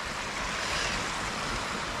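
A backcountry creek in central Hokkaido flows with a steady, close, broadband rushing of water and no voices.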